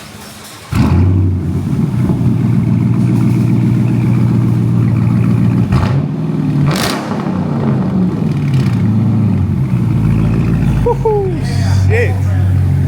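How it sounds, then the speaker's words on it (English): A straight-piped Dodge Charger R/T engine roars close and loud, a deep steady rumble that swells with a few revs partway through and again near the end. "Give it a nice little rev in a second."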